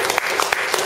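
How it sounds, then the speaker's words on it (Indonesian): An audience claps together at a talk at Tokyo Institute of Technology, a short burst of dense, loud applause from the crowd. "Kita beri tepuk tangan juga."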